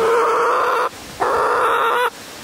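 Close chicken calls in two steady, drawn-out bursts separated by a short pause, loud and clear with no voices.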